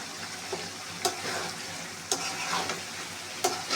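Duck meat stir-fried slowly in oil in a pan until it browns gives a steady close sizzle, with three or four sharp clacks from the stirring spoon.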